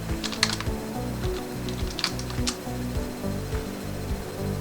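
A password is typed on a computer keyboard as a short run of quick, close, clicky keystrokes, with some irregular pauses between bursts.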